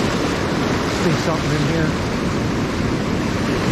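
Ocean surf breaking in several tiers of waves along a striped bass fishing beach, a steady loud wash of broadband noise filling the clip, with someone speaking briefly over it.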